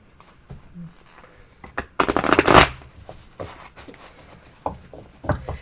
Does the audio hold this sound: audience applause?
no